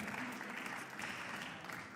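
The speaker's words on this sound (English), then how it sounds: "Let's have a cheer for all of those guys." A squash final crowd applauds and cheers for the match referees, a dense, steady wash of clapping that holds at an even level throughout, with no distinct voices above it.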